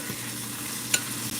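Cube steak sizzles in a hot pan with a steady close hiss and a brief sharp crackle near the middle, no voices.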